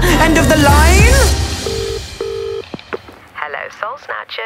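Two short electronic keypad beeps of a telephone dialing 999 follow sung vocals within a song, with more singing resuming afterwards.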